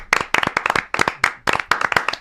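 A small group claps in short bursts of rapid, sharp hand claps, loud and close, with brief pauses between bursts.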